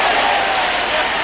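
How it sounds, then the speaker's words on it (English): A boxing crowd at a 1990 Dennis Andries versus Jeff Harding rematch keeps up a steady, loud roar with scattered clapping, dense and continuous across the whole moment. "Crowd reacts to just about anything Harding's going to do."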